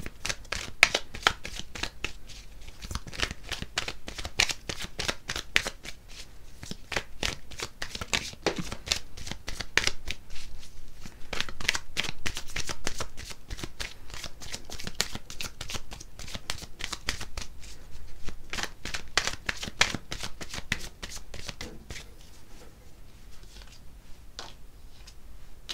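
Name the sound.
tarot cards being shuffled for an extra draw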